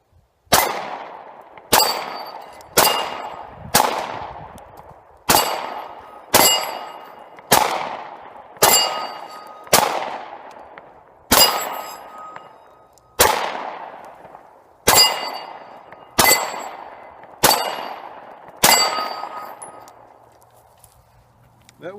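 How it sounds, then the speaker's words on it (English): A Glock 19 pistol fires about fifteen evenly spaced shots at AR500 steel targets outdoors, each loud crack followed by a ringing metallic ping that fades before the next. "We're going to shoot some of these AR 500 steel targets."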